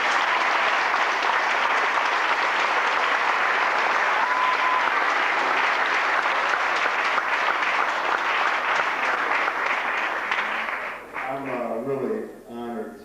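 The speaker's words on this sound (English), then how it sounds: "Please give Dean a round of applause" Sustained applause from a large crowd at Howard University, loud and steady, fading out near the end as a voice begins speaking.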